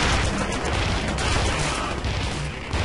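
Dense, continuous gunfire in Call of Duty: World at War on an Axis mod, a loud, unbroken wall of battle noise without pauses and no talk.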